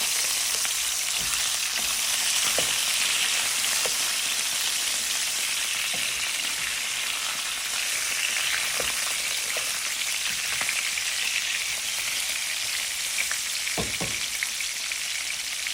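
Rohu fish heads fry in hot oil with a steady, close sizzle, broken now and then by sharp pops and faint stirring taps throughout.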